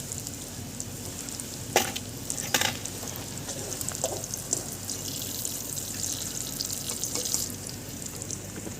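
Onions frying in oil in a wok, a continuous close hissing sizzle with a few clinks and scrapes of stirring, with a faint trickle of running water in the background.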